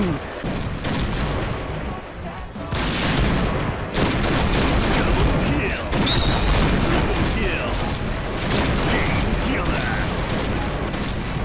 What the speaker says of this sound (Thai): ยิงกันรัวชิบหาย